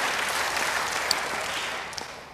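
Congregation applauding in a church service, a steady wash of clapping from many hands filling the room at even loudness, with a couple of sharper claps standing out.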